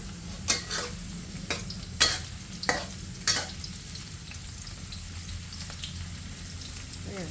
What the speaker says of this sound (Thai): ทอดให้เหลืองสุก